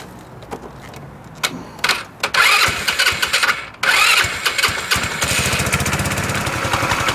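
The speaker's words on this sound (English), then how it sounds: "you will have to turn on your scooter" A 150cc GY6 scooter engine is cranked with a few stuttering attempts, catches, and settles into a steady buzzing idle, loud and close with no talk.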